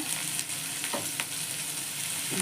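Onions, garlic and spices sauté in hot oil for a tuna fish curry, producing a dense, constant sizzle with a few light stirring scrapes, close and steady throughout.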